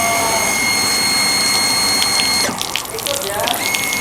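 Water rushes steadily and loudly from a shower fed by a Shimizu PLW-150 BIT booster pump, a dense continuous hiss with a steady whine, briefly changing character as a voice speaks over it.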